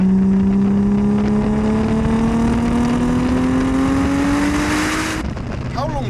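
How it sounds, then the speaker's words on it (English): A 1093 bhp stroker Audi RS4 B5 Avant engine roars loudly and close, its pitch climbing steadily as the turbo spools up, then cutting off abruptly near the end. "You hear the turbo spooling up, but when it hits nice."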